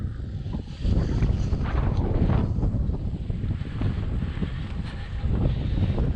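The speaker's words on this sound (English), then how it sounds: "This bloody westerly wind is killing me." Strong westerly wind buffets the microphone of a touring bike ridden on a rural road in north central Florida, a loud, steady roar with gusting surges that starts after a quieter first second and fills the clip alone.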